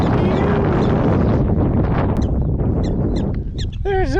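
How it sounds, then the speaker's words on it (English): Strong wind buffets the microphone on an open prairie, a loud continuous roar throughout, with a few faint chirps and squeaks near the end. "Sorry about the wind. It's very windy."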